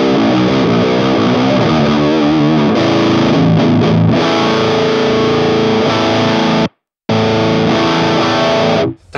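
Distorted high-gain electric guitar played through the Mesa amp model of a Valeton GP-100 multi-effects unit. Loud, bass-heavy chords ring out steadily, cut off by a brief silence, then resume and stop.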